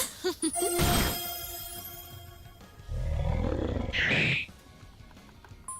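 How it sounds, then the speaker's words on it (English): A wolf in a PC video game growls and snarls in two rough bursts among game music and effects, with a brief sharper cry near the end. "Oh, Mr. Wolf."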